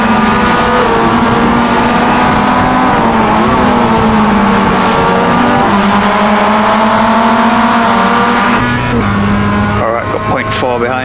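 Simulated Mazda MX-5 race car engine in iRacing at Road Atlanta, droning loud and steady with shifting pitch as the car holds speed, with a gear change near the end; a voice talks over the engine.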